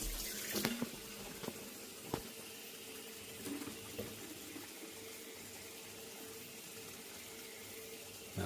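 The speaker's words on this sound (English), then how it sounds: "You just got to let the water run hot, because you know it's better to be warm" Water runs steadily from a tap as a faint, even hiss, with a few soft knocks and clunks over the top and no talking.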